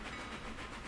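A train rolling along the rails in the Railroader video game, with a broad, steady, fairly faint rumble and no talking, lasting under a second.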